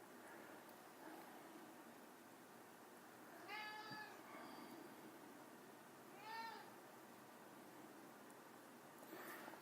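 A house cat meows twice, a few seconds apart, over a quiet steady background hiss, with a short faint sound at the end.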